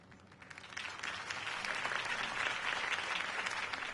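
Crowd applause in the Batman: The Telltale Series video game, following Harvey Dent's campaign speech; dense steady clapping that swells after the first second and holds at a moderate level.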